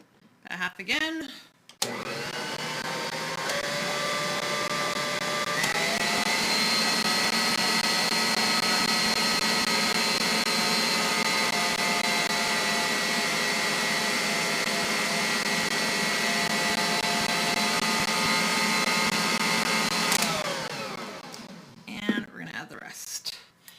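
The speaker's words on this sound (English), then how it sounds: "when you turn on your mixer, it's going to kind of explode" A stand mixer whirs steadily for about twenty seconds while flour goes into almond kringle dough, a loud constant motor drone that starts abruptly and then cuts off, with brief handling noises on either side.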